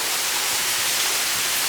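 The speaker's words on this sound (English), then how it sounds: "Can you hear the water? Yeah, I can hear it. It's getting louder and louder." Water rushing through a deep underground cave, a dense, even roar like a hidden waterfall, loud and unbroken throughout the short stretch with no voices.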